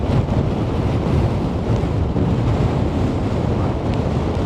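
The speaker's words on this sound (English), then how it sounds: "The waves are smashing underneath the south pier." Storm waves from Storm Darragh crash beneath Blackpool's South Pier at high tide, a continuous heavy roar of surf mixed with loud wind buffeting the microphone.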